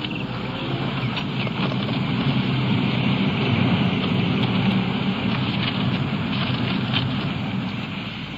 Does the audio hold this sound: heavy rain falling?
yes